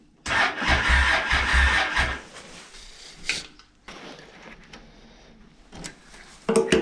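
An old wrecked car sitting in a garage cranks on its starter, a loud churning burst for about two seconds that then drops to quieter mechanical rattles and clicks, with another short burst at the end.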